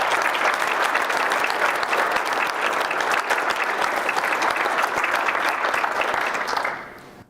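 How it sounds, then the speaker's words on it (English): Sustained audience applause at an agricultural association's annual general meeting, a dense, steady clapping from a large room that holds for several seconds before tapering off abruptly at the end. "I'd like to give him a round of applause for all of his efforts"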